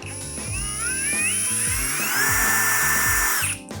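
A Procraft Industrial CD20B cordless drill runs steadily up close in impact mode, its motor whining and shifting in pitch before cutting off near the end.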